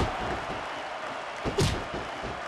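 Wrestling video game arena crowd, a steady broadband roar of many voices filling the background, swelling briefly with a sharper burst of cheering and an impact-like thump near the middle.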